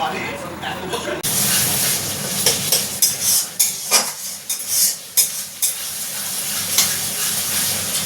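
Spice masala for aloo dum is stirred and sautéed in a pan. A near, continuous sizzle is broken by repeated scraping strokes of a spoon against the metal, loud and uneven in rhythm.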